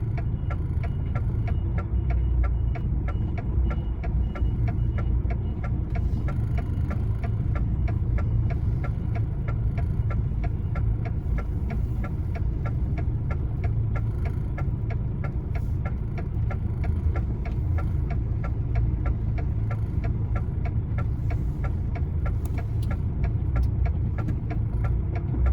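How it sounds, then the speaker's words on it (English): A truck's engine idles and rumbles steadily at close range while the lorry reverses into a bay in the snow in Kent, England, to drop off its trailer, with a faint ticking running through the low, continuous drone. "Reversing ourselves into a bay where we can drop the trailer off."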